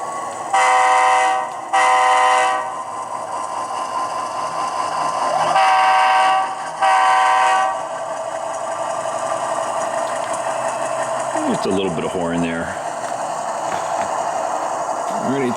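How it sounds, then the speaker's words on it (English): An Athearn Dash-9 model locomotive runs during a switching runaround, its motor humming steadily while the horn sounds in two pairs of loud, sustained blasts near the start. "And then we'll do a runaround with our locomotive here."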